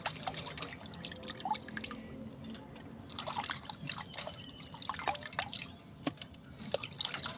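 Water trickles and drips irregularly close by while rock fish are rinsed clean, with scattered splashes and small clatters at a low, quiet level.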